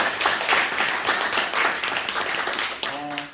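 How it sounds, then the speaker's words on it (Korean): Group at a sports rehabilitation session clapping in a short burst of brisk applause close by, ending as a voice begins speaking. "우리 큰 박수로 인사하시고"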